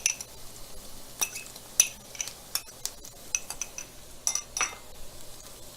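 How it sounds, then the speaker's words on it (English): Sun-dried tomatoes going into a pan of shallots on the stove, heard as scattered clinks and scrapes of a utensil against the pan at a steady, irregular pace, close and fairly quiet. "I'm gonna add my sun-dried tomatoes."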